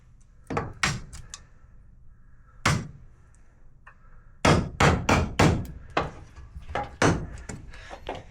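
Hammer blows knocking nails out of a wooden pallet: a few spaced knocks, then a fast run of loud, close, sharp thuds, with faint echo between strikes.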